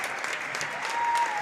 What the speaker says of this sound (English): the Ellsworth fans are cheering about something